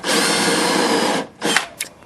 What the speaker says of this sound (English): everybody ought to have a 1/2-inch drill bit, and it's the same thing